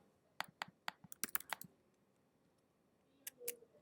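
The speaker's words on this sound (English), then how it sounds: "If I type a code" A rapid burst of crisp keystrokes on a computer keyboard as a discount code is typed, roughly ten clicks in quick succession, a pause, then a couple more taps, close and fairly quiet with no speech.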